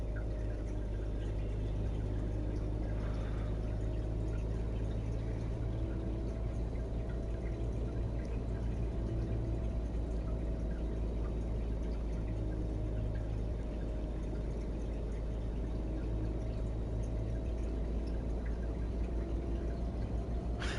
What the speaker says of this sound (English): If you can hear running water in the background, I do apologise, it's my fish tank.